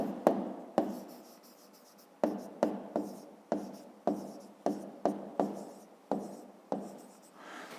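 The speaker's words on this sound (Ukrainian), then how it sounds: "Пишемо відповідь." A pen scratches out an answer on paper for a fifth-grade maths exercise, a quiet sequence of about a dozen short, sharp strokes in an uneven rhythm, close up and alone.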